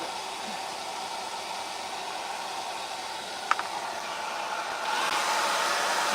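A hair dryer blows steadily on a thrifted book holder, a close, even whooshing hiss that grows slightly louder near the end, with a brief clack partway through and no talk.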